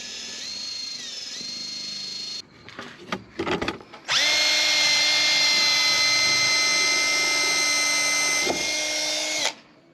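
A Metabo HPT 18V cordless right angle drill, model DN18DSLQ4, gives a few brief stuttering bursts, then runs steadily at full speed with a loud, close whine for about five seconds before stopping.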